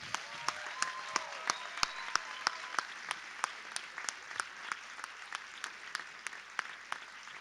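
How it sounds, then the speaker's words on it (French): Steady applause from an awards ceremony crowd, with sharp individual claps standing out above a dense patter of hands, sustained throughout. "un tonnerre d'applaudissements pour tous ces réalisateurs"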